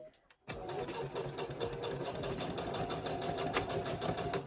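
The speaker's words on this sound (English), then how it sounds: "I'm just going to sew along there just so it holds it down." A sewing machine stitches bias binding onto a fabric wet wipe cover at a 2.5 stitch length, starting after a brief pause and then running in a steady, continuous whirring hum close by.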